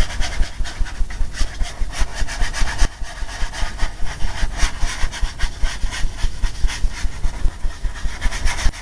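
A brush scrubs paint onto a surface in quick, steady back-and-forth strokes, close and loud, with a brief pause partway through and no talk.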